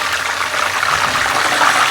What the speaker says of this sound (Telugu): దాంట్లో సాల్ట్ వాటర్, తను వేస్తున్న వాటర్ అయితే సాల్ట్ వాటర్.